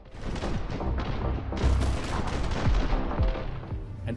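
Dense, rapid video game gunfire from a game trailer, with overlapping shots and booming bursts in a continuous barrage, mixed fairly quietly and with no speech.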